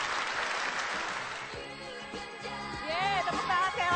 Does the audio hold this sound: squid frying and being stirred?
no